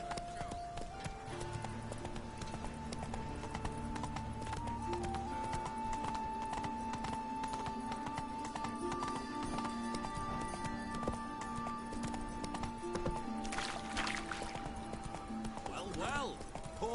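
Roach the horse gallops in The Witcher 3, a steady, rapid clip-clop of hooves throughout, with game music and a voice over the hoofbeats.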